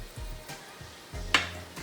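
Ground beef browning in a pan, a soft steady sizzle with a few scraping stirs and one sharper clack of a utensil, close and quiet with no talking.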